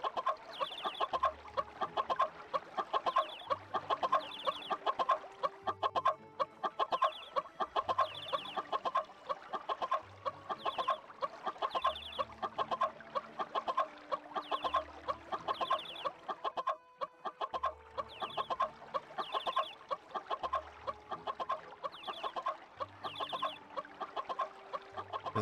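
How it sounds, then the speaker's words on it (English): Chickens in the video game Funny Pizza Land cluck steadily for about 25 seconds, repeating in clear, regular bursts at moderate volume with no voices over them. "Chicken."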